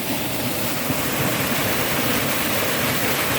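Cold stream water rushes steadily through a valley near Cheongdo, a continuous broadband wash of flowing water with no break and no voices.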